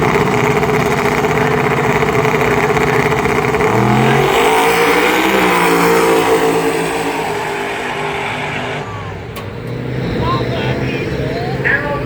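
A diesel-powered Chevelle drag car at a Christmas tree drag race sounds loud and steady, its engine roar rising and falling over strong crowd and track noise, with a commentator talking throughout.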